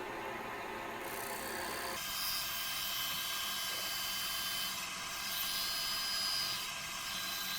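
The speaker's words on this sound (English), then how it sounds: "it's going to be running at the highest speed this lathe will do" Lathe spinning at its top speed while a measuring spoon cup is made, a steady whining motor hum with high tonal overtones, rising slightly in pitch partway through and running continuously at close range.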